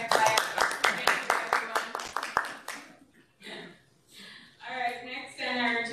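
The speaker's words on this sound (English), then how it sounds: "We all deserve a clap, clap, clap." Board meeting attendees at a county public hospital board meeting clap in a quick, steady series of sharp, close claps for a couple of seconds, then talking voices take over.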